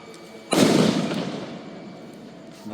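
A single loud, sharp blast from Pacaya volcano at night bursts out suddenly, then rumbles and decays slowly over a couple of seconds, with a faint new swell starting near the end.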